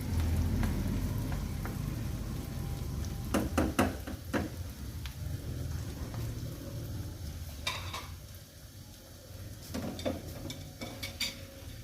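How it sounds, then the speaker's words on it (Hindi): Onions fry until brown for a chicken barmi biryani: a steady, close sizzle runs throughout, punctuated by sharp knocks of a spoon stirring against the pan. "प्याज ब्राउन करके मैं निकाल लूँगी इसमें से, अभी हो रहा है।"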